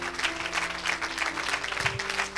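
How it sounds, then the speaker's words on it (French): A church congregation applauds for Jesus at a Thursday evening service, a dense run of clapping at steady strength with a low organ or keyboard tone held underneath. "Somebody put your two hands together beautifully for Jesus."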